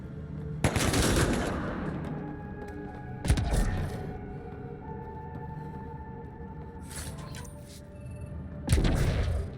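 Gunfire during a firefight in the video game Mass Effect: Andromeda, with a few bursts of shots separated by a humming ambient drone. The bursts are moderately loud and the sound is fairly quiet overall.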